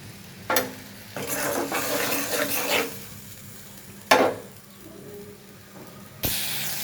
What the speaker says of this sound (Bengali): ভালো করে কষায় নিব মশলাটা লবণ দিয়ে দিব পরিমাণ মতো